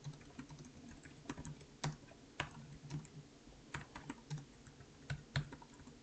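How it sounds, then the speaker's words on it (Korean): Keys clatter in an irregular stream of crisp clicks, steady typing on a keyboard close by with no talking. "타이핑이 좀 힘들어서"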